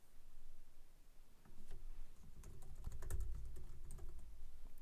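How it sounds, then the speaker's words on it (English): Fingers tap on a computer keyboard in a quiet room, a run of quick uneven keystrokes that grows denser and louder after the first second or so, no speech. "Start typing in the name of the collective in the organization/group name search field."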